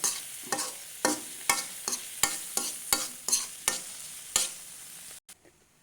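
Ingredients for spaghetti carbonara are stir-fried in a pan: about a dozen loud, rhythmic scrape-and-sizzle strokes about half a second apart, close by, then a sudden stop into near silence.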